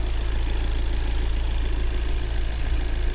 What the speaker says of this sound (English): So I've got my friend here, Rodney, he's just going to rev the engine.